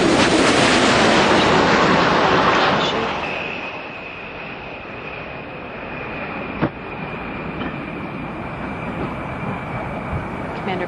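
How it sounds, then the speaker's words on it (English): Space Shuttle Discovery rolls out on runway 33 at Kennedy Space Center after touchdown: a loud, steady broadband roar that eases after a few seconds into a sustained rumble with a faint high whine, plus one sharp thump partway through. "Discovery is rolling out on runway 33 at the Kennedy Space Center"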